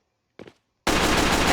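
TF2-style pistol and weapon fire in the s&box game, a brief faint click followed by a loud sustained burst of rapid gunfire.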